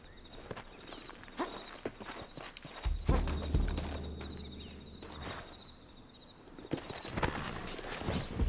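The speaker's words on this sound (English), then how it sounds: "Looks like Carlos left us some horses." Horse hooves clip-clopping in Red Dead Redemption, several irregular hoof strikes on hard ground with a heavier thudding passage midway, moderately close, with faint background game ambience.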